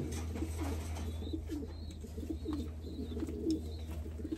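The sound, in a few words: pigeons cooing in a racing pigeon loft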